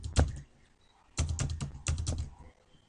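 Bursts of keystrokes on a computer keyboard as numbers are typed: one short cluster, a pause, then two denser runs of quick close-up clicks, with no talk.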